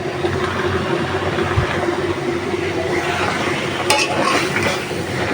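Chopped vegetables, including green jackfruit, hit a pan of spiced chili masala for a curry with dried fish and fry with a continuous, close sizzle. Stirring scrapes run underneath, and a brief clatter comes near the end.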